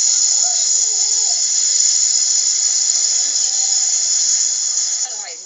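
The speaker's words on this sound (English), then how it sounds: "This is ferocious winds." Ferocious super typhoon winds in the Philippines roar as a loud, unbroken, high-pitched howl and whistle over a steady rush, then ease slightly in the final moment.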